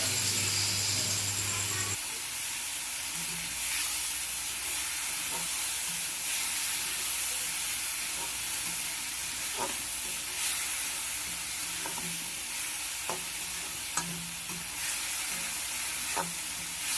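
Fish and ponnowa greens fry in a pan with a steady, even sizzle that runs throughout, broken by a few soft clicks and stirring knocks.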